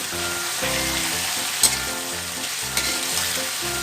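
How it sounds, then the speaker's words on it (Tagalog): Fried tuna fish is stirred in a sizzling pan with steady frying noise, repeated scraping stirs in a rhythmic pattern, and a couple of sharper clinks, with no talking. "Then we will add the fried tuna fish."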